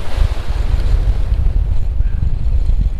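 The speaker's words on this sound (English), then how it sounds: "The wind is picking up, so we might make this our last fish." Strong, gusty wind buffets the microphone at an ocean beach during surf fishing, with a heavy low rumble and surf washing underneath, loud and continuous with no talk.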